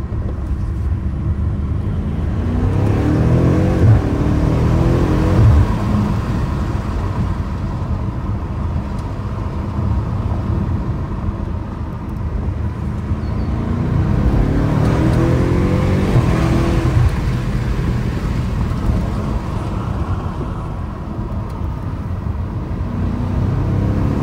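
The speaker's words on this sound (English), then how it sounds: "Hear some of that exhaust." A 2021 BMW M5 F90's exhaust roars from inside the cabin with a window cracked open, a steady loud drone with two rising surges as the car accelerates hard.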